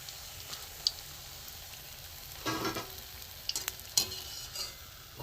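Semolina snack frying in oil gives a low, quiet sizzle, broken by a few sharp clinks and scraping stirs of a utensil in the pan; no one talks.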